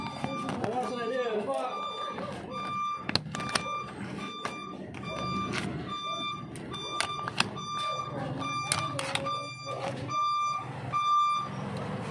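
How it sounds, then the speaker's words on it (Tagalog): Reversing beeps from a delivery truck sound repeatedly at a steady rhythm, moderately close, over background noise and people talking nearby. "Ay, may delivery ng truck."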